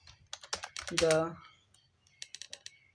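Keys clatter on a computer keyboard as a grammar lesson is typed out, with short bursts of light clicks before and after a brief spoken word, all fairly quiet and close.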